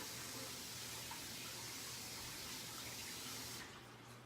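Cold water runs from a kitchen tap to rinse freshly made butter, a steady broadband hiss close by that flows evenly, then thins and quiets as the flow is cut near the end.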